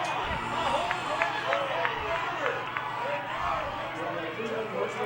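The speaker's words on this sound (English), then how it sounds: "Little cheering going on as in the Manti side of things." Spectators at a high school state tournament softball game between Gunnison and Manti raise a steady crowd noise with scattered cheers and claps, mid-distance, under a continuous din of voices.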